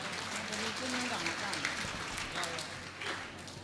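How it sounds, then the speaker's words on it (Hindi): An audience at a religious discourse claps together in a brief burst of applause, moderately distant, with speech mixed in. "ताली बजाओ"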